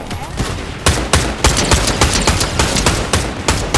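Repeated gunshots in the video game Fortnite, sharp loud cracks firing in an irregular rhythm over a steady background of game noise, with a voice faintly underneath.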